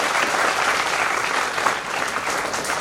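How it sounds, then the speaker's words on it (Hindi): An audience at a guest talk bursts into steady applause, a dense, even wash of many hands clapping together, sustained and moderately loud throughout, with no voices. "एक बारी तालियां हो जानी चाहिए थी।"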